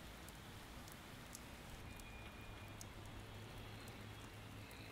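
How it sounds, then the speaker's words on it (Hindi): Heavy rain pours down in a steady, dense hiss on surfaces, loud and unbroken throughout, with a low hum underneath and no voices. "बारिश बहुत तेज हो रही है"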